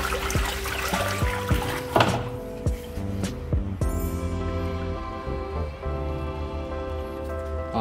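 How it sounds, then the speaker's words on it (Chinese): Water gurgles and trickles steadily through a new flexible drain pipe under a laundry washbasin, with some hard knocks and clunks at the start before the flow settles into an even run. "水在溢出来"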